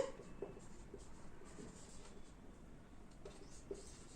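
A pen scratches across paper during a Class 10 linear equations lesson, faint and continuous with soft strokes and small taps, close to the microphone and without speech.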